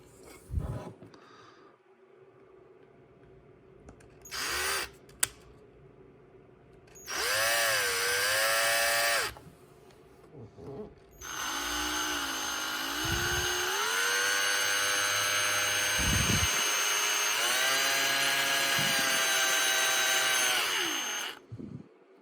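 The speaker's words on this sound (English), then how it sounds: "Basically use the drill like a Dremel and just go slow." A power drill used like a rotary tool cuts a slot into a metal lightsaber hilt, whining in several long bursts with pitch rising and falling as the load changes, between quieter pauses and small handling knocks.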